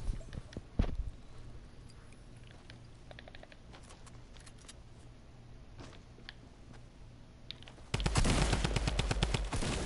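Shotgun blasts in the Fortnite battle royale video game come as a couple of sharp, isolated shots amid scattered game noise, followed by a loud, dense burst of rapid gunfire near the end.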